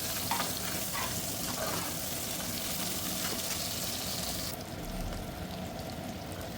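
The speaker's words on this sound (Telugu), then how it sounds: "వేసుకొని దోరగా ఫ్రై చేద్దామండి." Onions frying in ghee for a paneer biryani give a steady, close sizzle with soft stirring scrapes. Partway through, the hiss turns brighter and stronger, and no one speaks.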